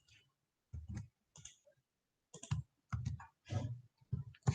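A computer keyboard is typed on in short clusters of quiet, close key clicks separated by brief pauses, with the Shift and Enter keys among them.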